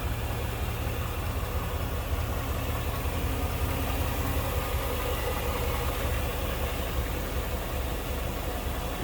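A 1955 Chevrolet Bel Air convertible's stock engine idles smoothly and steadily, a constant even rumble with no misses, heard alone under the open hood.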